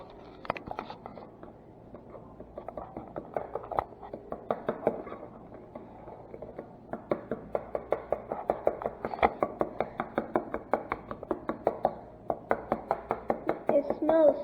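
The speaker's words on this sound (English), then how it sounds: "So just try and mix it up as much as you can" Jello mixture being stirred briskly in a bowl, a close run of rapid, evenly spaced clinks and taps that pauses briefly and then picks up again in a steady rhythm.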